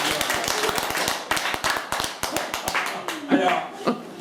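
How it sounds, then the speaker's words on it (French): A small group of friends at a home magic show claps for a card trick performer, brisk uneven handclaps close by, with talking and laughter running underneath. "On peut l'applaudir."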